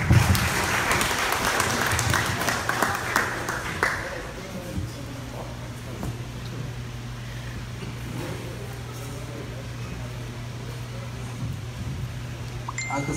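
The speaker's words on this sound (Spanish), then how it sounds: "la palabra a nuestro compañero Isidro López, para quien pido un fuerte aplauso" An audience at a political event in Pinotepa Nacional, Oaxaca, bursts into loud applause that lasts a few seconds, then fades to a quieter room with a low steady hum.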